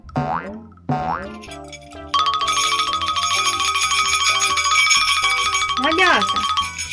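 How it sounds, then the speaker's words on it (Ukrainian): Bright, shimmering small bells ring continuously for several seconds after a couple of springy boing sounds, with a voice sliding briefly over the top. "Це дзвоники."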